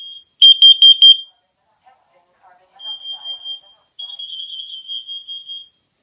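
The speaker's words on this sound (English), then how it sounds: "This is only a test. Testing smoke. Testing carbon monoxide." A Nest smoke detector sounding its alarm during a home test: a loud burst of rapid beeps, then two longer steady tones, with a quiet voice murmuring in between.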